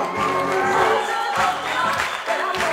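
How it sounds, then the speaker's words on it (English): Wedding guests in a tent applauding the groom's parents, a loud, continuous mass of clapping with cheering and voices, broken by regular rhythmic thumps from music. "Let's give them a nice round of applause. Once again, keep your applause going."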